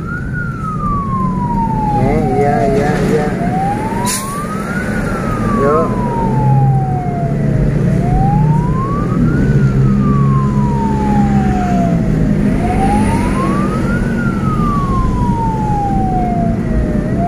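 An ambulance siren wails in repeated rising and falling sweeps while escorted by volunteer motorcycle riders through night traffic, loud and close over road and engine noise, with brief talk in the vehicle.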